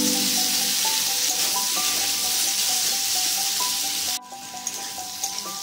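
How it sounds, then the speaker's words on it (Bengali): Papaya pieces seasoned with turmeric and salt sizzle and fry steadily in hot oil, a dense continuous crackle that drops sharply quieter near the end as if the heat or lid changes, with faint scraping clinks. "পেঁপেটাকে লাল করে ভেজে নেব।"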